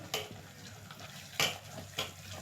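Millet paniyaram batter with ragi flour, coconut and idli batter is stirred in a bowl, with a few soft scrapes and clinks of a spoon against the bowl amid quiet mixing noise.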